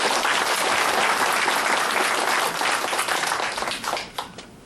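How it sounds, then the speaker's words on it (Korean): An audience gives loud, dense applause to welcome the president of the Korea Freedom Federation at a Korean event. The clapping holds strong for about four seconds, then thins out and tapers off. "열렬한 박수로 환영해 주십시오."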